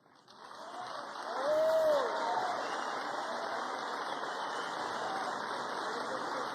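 Crowd at a Colombian presidential cabinet presentation applauds a government minister, a broad, even wash of distant clapping that swells in the first two seconds, then holds steady, with a faint voice briefly rising above it.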